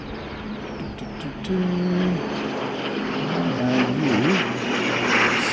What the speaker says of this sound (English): We've got an ATR coming in